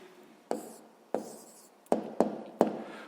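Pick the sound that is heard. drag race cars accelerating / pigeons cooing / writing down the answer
writing down the answer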